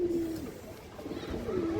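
Indian high flyer pigeons with cream eyes coo in low, soft rounded calls, a couple of drawn-out notes rising and falling close by over a faint background murmur.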